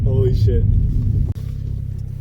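A car on a dead-end road passes by and turns around. Its low, close engine rumble runs under someone talking and continues after his voice stops.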